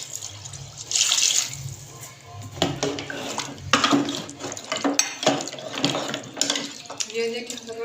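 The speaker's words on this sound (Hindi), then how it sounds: "अब इसके अंदर हम उस पर ज़रूरत पानी डाल देंगे।" Water poured into a pressure cooker pot of beef paya in a home kitchen, a splashing, gurgling pour with metal pot clatter, moderately close, running in bursts over several seconds.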